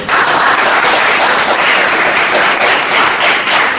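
A seated audience at an evening poetry reading claps loudly and continuously, a dense, even applause filling the whole stretch without a break.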